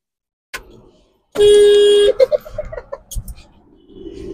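A loud, sustained pressure horn blast from a 2021-model car, then several short staccato toots trailing off, with scattered background noises afterward.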